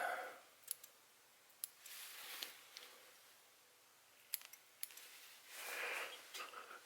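Scissors snip at the thread and fur body of a Coffin Fly dry fly in the Harry Darbee style, giving faint, sparse clicks spaced irregularly in a quiet room, with a soft rustle between cuts.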